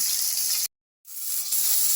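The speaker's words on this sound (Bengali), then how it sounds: "আর দুটো মাছ আমি তেলের মধ্যে ভাজতে ছেড়ে দিচ্ছি" Steady close hiss of small fish frying in hot oil in a home kitchen, cut off abruptly by a short silence and then returning at full strength.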